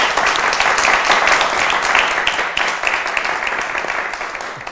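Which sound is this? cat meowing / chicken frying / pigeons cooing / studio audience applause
studio audience applause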